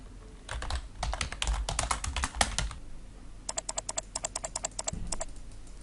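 Fingers type on a computer keyboard in quick bursts of crisp key clicks, close and clear, with a short pause before a faster, more regular run of taps; no one speaks.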